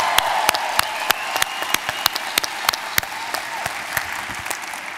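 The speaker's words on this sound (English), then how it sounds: "Give yourselves a hand while I think about that." An audience at a live conversation event with Stephen King applauds with sharp, distinct claps that stand out rhythmically over a steady bed of crowd clapping.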